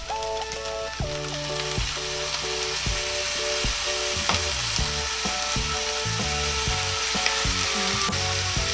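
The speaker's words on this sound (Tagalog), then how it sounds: "ngayon, lalagyan na po natin ng soy sauce or toyo" Sisig frying in a pan with soy sauce added, a steady loud sizzle with crackling and scraping stir noises, no talk.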